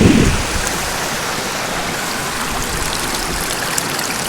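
Village river water rushing and splashing over stones, a steady broadband wash that stays close and even throughout, with a slightly louder burst at the very start.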